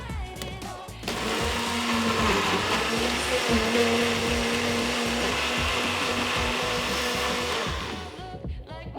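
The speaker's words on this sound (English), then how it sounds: "How my blender works." A blender whirs loudly and steadily for several seconds blending a green smoothie, then spins down and stops.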